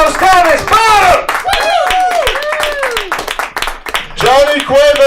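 Audience at a live comedy club clapping, with bursts of applause mixed with loud speech and laughter from the room throughout.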